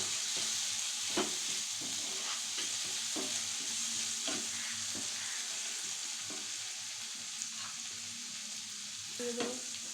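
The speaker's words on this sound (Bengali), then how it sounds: "ভালোভাবে মশলাটাকে কষাই করে নেব।" Spices sizzle steadily in a hot pan during a chinri kosa preparation, with a spoon scraping and stirring in repeated light knocks over the constant frying hiss.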